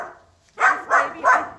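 A newly arrived dog at an animal shelter lets out three loud, evenly spaced barks up close after a quiet moment.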